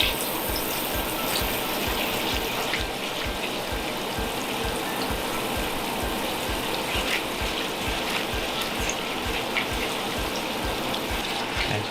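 A teriyaki-style sauce for a Japanese beef steak donburi simmers and reduces in a pan. It makes a steady bubbling, sizzling hiss with soft rhythmic pops throughout, and no one speaks over it.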